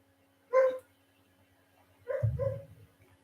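A puppy gives a short yelp, then after a pause two more whiny yips close together, heard against a quiet steady hum.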